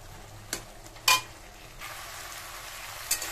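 Tomato chutney cooking in a pan, with a steady soft sizzle and bubble plus a few sharp utensil scrapes and clinks near the start and end, close and moderately quiet.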